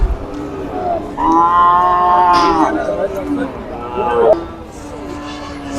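Cattle, including young calves, lowing at a crowded livestock market: a long, loud moo with a second call, over constant crowd chatter and nearby talk.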